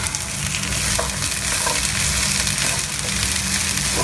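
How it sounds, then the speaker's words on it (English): Beans stirred in a hot pan over a fairly high flame, a steady broadband sizzle with scraping strokes of the spoon running continuously throughout, close and loud. "I'm going to, on slightly high flame,"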